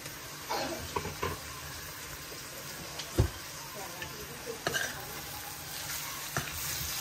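Spices fry in a pan over steady sizzling, with scattered scrapes and clinks as they are stirred, close and moderately loud.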